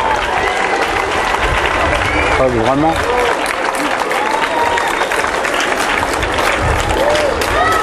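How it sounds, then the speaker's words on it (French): A large outdoor crowd applauds and cheers steadily after a very loud fireworks display at Les Sables-d'Olonne, with someone speaking briefly over the clapping. "Et voilà, seconde salve d'applaudissements."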